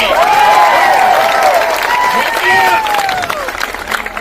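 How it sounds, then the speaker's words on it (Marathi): A crowd of students at a protest against competitive exam rules in Chhatrapati Sambhajinagar claps loudly, with sharp whistles sweeping over the applause before it thins out toward the end. "जोरात टाळ्या वाजून इथून टाकून द्या."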